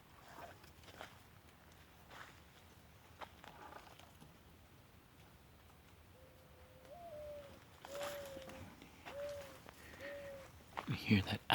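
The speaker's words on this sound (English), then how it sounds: "You hear that owl? I think that's an owl." An owl calls outdoors in Florida with a few soft hooting notes in the distance, partly mixed with footsteps and rustling, while a person speaks nearby.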